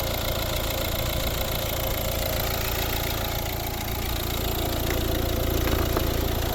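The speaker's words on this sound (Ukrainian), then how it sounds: "Ось робота двигуна." A 2012 Volvo S60 1.6 diesel engine idles steadily with a low, even rumble and faint rattling knock, continuous and close throughout.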